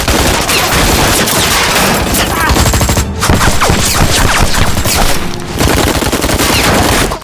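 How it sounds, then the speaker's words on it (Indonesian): Machine gun fire blasts through an intense film shootout, loud dense bursts of rapid shots with booms, nearly continuous for several seconds with only brief gaps. "fokus sang kapten teralihkan oleh tembakan mesin gun yang mengarah kepadanya"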